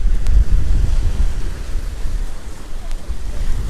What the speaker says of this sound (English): It's just very relaxing listening to the waves crashing gently on the side